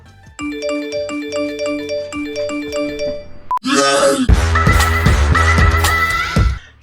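A smartphone plays its chime while being switched on in the morning: a clear, repeating electronic melody of bright tones, followed after a brief pause by a louder, fuller burst of jingly music with a deep bass pulse.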